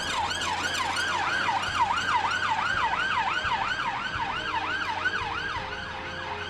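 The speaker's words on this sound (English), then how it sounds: "a passing ambulance did get their attention and unsettle them for a bit" An ambulance siren wails in a rapid, repeating up-and-down pattern, loud and close, easing off slightly as it moves away over road noise.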